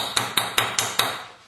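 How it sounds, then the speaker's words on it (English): Five sharp metallic hammer taps ring out at an even pace on a part of a Meyer E-60 snow plow hydraulic pump being rebuilt, with each strike close, bright and decaying briefly before the next. "I'd get my hammer and just give it a little tap."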